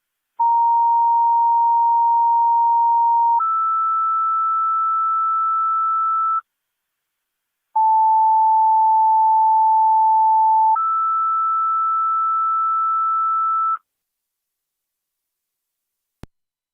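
Fire dispatch paging tones come over a police scanner in Niagara County, two sets of steady two-step beeps, each a lower tone followed by a higher one. They are loud and clean, with a short pause between the sets.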